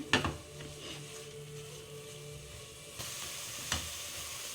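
Onions fry with salt in a pan, a soft, steady sizzle heard up close, broken by a sharp utensil clatter at the start and another near the end, with no voices.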